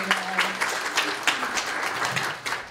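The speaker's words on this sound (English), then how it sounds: "one more round of applause for Tammy and the Tiger Cub" A round of applause for Tammy and the Tiger Cub at a Chattanooga State student government cabinet meeting: steady, moderately loud clapping from a small room crowd lasting the whole moment, with a faint voice underneath.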